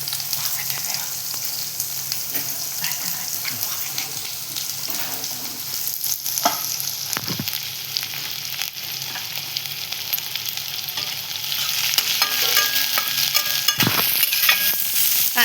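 Onion with curry leaves sautés in a pan, making a steady close sizzle. Occasional scrapes and knocks come from stirring, and the frying grows slightly louder toward the end.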